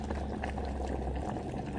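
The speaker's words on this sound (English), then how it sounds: "my brother was thrown into a pot of boiling liquid, and I could hear it boiling." A pot of boiling liquid bubbles steadily and close, a dense gurgling simmer with no voices over it.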